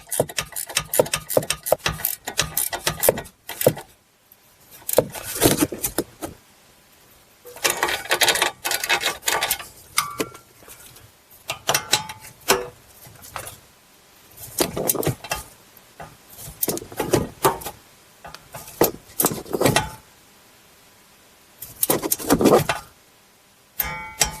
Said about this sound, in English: And that should prevent that from spinning, and we'll tighten it up the rest of the way.